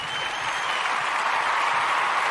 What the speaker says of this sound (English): we want to give all the Umoja born a round of applause